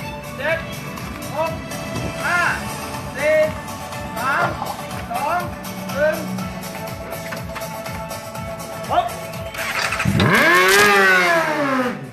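A Honda race motorcycle engine sounds during a pit entry demonstration by a Thai racing team preparing for the Suzuka 4 Hours race, revving repeatedly under continuous commentary and then rising into a loud, close surge near the end.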